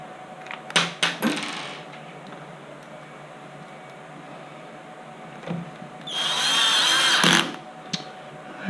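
Power drill driving screws into a plastic gearbox cowling on an MGI Zip Navigator at a low torque setting, with a short whirring burst near the end and a few knocks and clicks before it.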